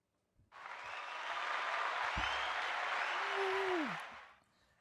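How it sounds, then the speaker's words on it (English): A studio audience applauds a guest on a show, a smooth wash of clapping that rises after a brief start, holds for a few seconds and fades away, with a faint whistle-like tone sliding through near the end. "Let's hit a round of applause for our guest one more time."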